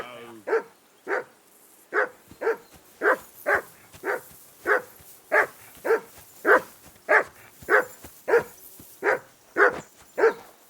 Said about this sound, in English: Call off that damn dog before he wolfs down the last of our meat.